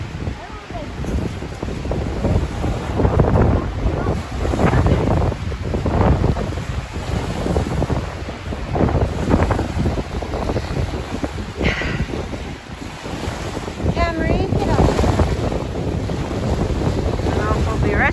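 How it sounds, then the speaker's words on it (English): Waves wash and splash against a small boat in strong wind, with heavy wind buffeting on the microphone and people talking now and then over the steady roar of the water. "Rescuing it with these waves splashing over the back"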